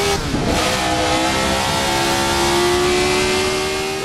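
A vintage RSS 1970 race car in a racing sim holds a loud, steady high engine note with a strong droning whine, pitch rising slightly, close and continuous throughout.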